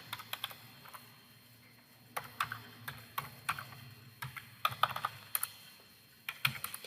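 A computer keyboard is typed on in short irregular bursts of close, crisp key clicks while student data is entered into a program, with brief pauses between the flurries and no talking.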